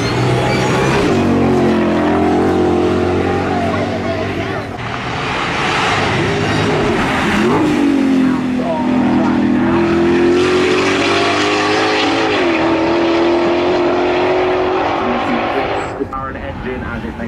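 Supercharged 5.8 litre race car engine roaring loudly and continuously as the car climbs over a hill, pitch rising and falling through gear changes, with commentary talking over it.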